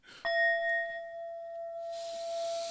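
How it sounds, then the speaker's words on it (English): A gong-like sound effect rings out from a single sharp strike, holding a clear, steady metallic tone that sustains for a couple of seconds before a soft hiss takes over. "Give us a gong."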